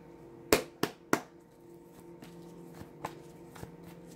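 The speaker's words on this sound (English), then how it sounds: "Really want to shuffle this up for you guys." Three crisp riffling bursts of tarot cards being shuffled in quick succession, followed by softer taps and card handling in a quiet room.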